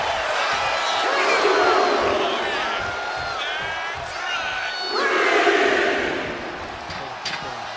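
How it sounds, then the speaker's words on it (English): A wrestling crowd cheering in WWE 2K25, a loud sustained arena roar that swells and surges in waves, with an announcer's voice talking over it. "He's pumped up, and so is this crowd."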